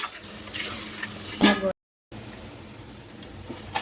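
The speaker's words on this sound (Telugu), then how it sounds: "కొంచెం నూనెలో గోలాలి" Fish coated with chili, turmeric and ginger stir-fried in oil, a close frying sizzle with a loud stirring scrape partway through, then a brief silence and a quieter, steady sizzle.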